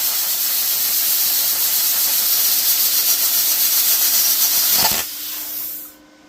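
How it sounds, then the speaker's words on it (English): A Topshak TS-CUT40 40A plasma cutter slices the end off a piece of metal with a loud, steady roaring hiss that ends in a sharp crack, then drops to a softer hiss and fades out. "Let's just cut the end off here."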